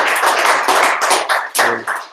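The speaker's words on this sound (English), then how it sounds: "Let's give Mark a round of applause." Brief burst of audience applause at a lightning-talk tech meetup, a short run of uneven clapping from a small group, close and without voices.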